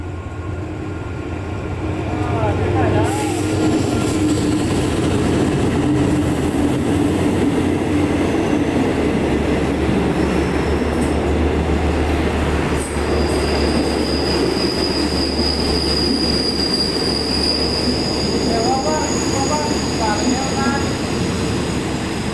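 Express train No. 172 from Sungai Kolok to Bangkok at Na San station, a loud steady rumble of rail cars with squealing wheels and faint clickety-clack, a thin high screech running through much of it, close and continuous.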